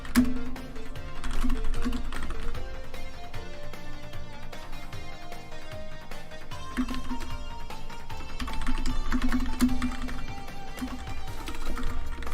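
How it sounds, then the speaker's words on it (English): Steady, rapid typing on a computer keyboard whose I key double-types, a dense run of close clicking keystrokes with music playing faintly underneath throughout. "that double typing with the I key is driving me insane. I really gotta clean up this keyboard"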